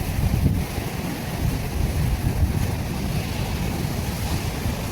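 Rough sea surf churns and rushes steadily as fishing boats set out through surging waves, with wind buffeting the microphone throughout.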